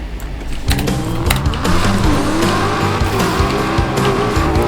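Car engine boost with sharp tire squeals and skidding from a car in the FiveM video game, loud and continuous with a rising whine over revving, no talk.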